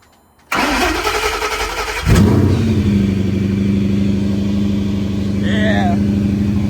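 A Paxton Novi 2200 supercharged Gen 3 engine swapped into an S197 Mustang cranks briefly, then fires and roars up loudly before settling into a steady, rumbling idle close by.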